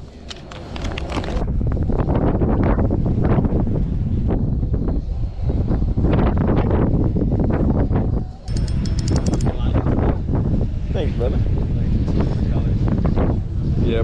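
Strong wind buffets the microphone in a continuous roar on the shoreline at Crystal Beach, with people talking underneath it.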